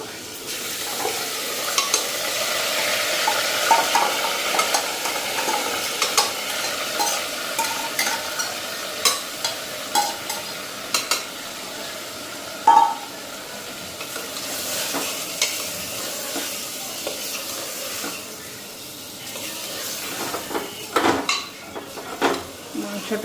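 Meat sautéing in a pan after fried fish pieces were set aside, with a steady sizzle, frequent spoon stirring and metal scraping against the pan, plus occasional clinks of utensils throughout.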